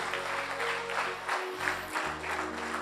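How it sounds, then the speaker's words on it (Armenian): Church congregation applauding during a worship service, a steady, dense wash of clapping filling the whole stretch with little variation, while a low sustained musical tone drones underneath. "Եկեք ծափարենք Տիրոջ"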